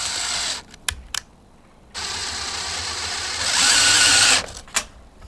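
A power drill drives 5-inch trim head screws in trailer roof framing, with short close whirring bursts, a couple of quick clicks, then a longer, louder high-pitched run that stops abruptly.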